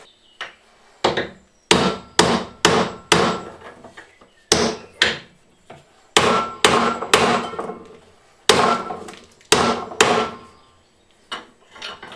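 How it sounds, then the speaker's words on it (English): Sharp metallic hammer strikes on an anvil while beating a slingshot part, landing in quick bursts of two to four blows separated by short pauses. "we're going to give it a good beating with a hammer on the anvil"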